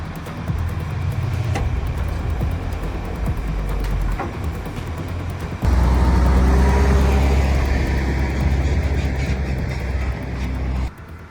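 Heavy excavator clambering up onto a transport truck on muddy, soft ground, its engine a loud, steady low rumble that surges and thickens partway through, then drops off at the end.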